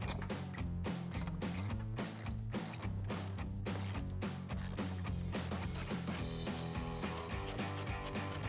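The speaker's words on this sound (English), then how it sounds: "We've got 10mm nuts on both of our terminals that we'll use a 10mm socket to remove." A ratchet with a 10mm socket turns the battery terminal nuts on a RAM 1500 during a front bumper install, a fast run of clicking pawl ticks, close and continuous, over a steady mechanical backing with no talk.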